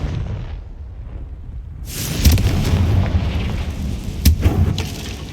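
A Confringo fire spell in Hogwarts Legacy erupts into a deep, booming blast after a brief quiet moment, followed by a rumbling roar with a second heavy burst near the end.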